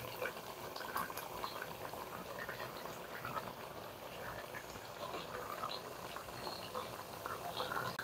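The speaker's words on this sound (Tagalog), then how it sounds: "Pakuluan mo muna natin yan." Igado stew simmering uncovered in a pot, giving a steady close bubbling and soft popping patter that runs without a break under faint background noise.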